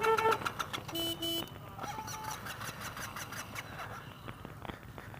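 A scooter engine fails to start at a motorcycle rally: repeated short cranking bursts and sputters, then broadband engine and crowd noise, close and fairly loud with other bikes around.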